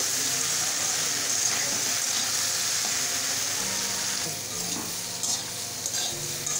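Raw green banana pieces fry in a pan of oil for a simple low-oil vegetable dish, giving a steady close hiss and crackle. Occasional scrapes break through the constant sizzle, which eases slightly toward the end.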